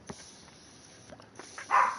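Dogs bark a few times, short and fairly distant, with a louder burst near the end over quiet background noise.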